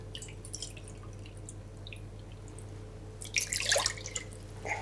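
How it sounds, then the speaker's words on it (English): Tap water pours into a saucepan holding a marinade mixture, faint dripping at first, then a brief louder splashing burst near the end, alone with no talk. "Now we are going to add 2 cups of water. Just tap water is fine."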